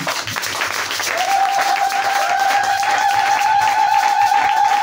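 Easter church congregation breaking into sustained applause, loud steady clapping from a crowd with a held sung or shouted tone rising over it.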